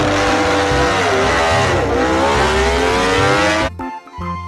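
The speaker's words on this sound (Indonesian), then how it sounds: "ada motor balap" A toy racing motorbike gives off a loud, buzzy engine-revving sound that dips and climbs in pitch for several seconds, then cuts off abruptly and leaves a few brief sputters.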